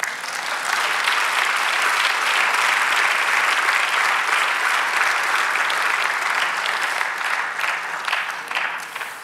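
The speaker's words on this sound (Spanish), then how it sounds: "Denle un aplauso a Cristo." Applause from a church congregation at a sermon fills the space with dense, sustained clapping, loud and even throughout before tapering slightly at the end, with no talking over it.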